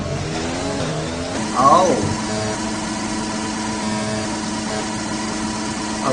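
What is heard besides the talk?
car engine revving high in video game F1 2020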